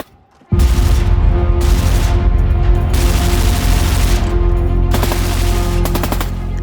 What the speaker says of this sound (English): Suddenly, the sound of gunfire fills the air.